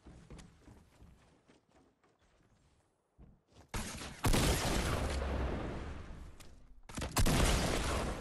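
Gunshots in Fortnite: sparse, quiet shots and clicks at first, then after a short pause a loud, sustained burst of blasting fire that cuts off briefly and returns.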